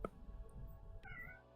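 A faint, brief cat meow near the end over a low background hum, with a soft click just before it.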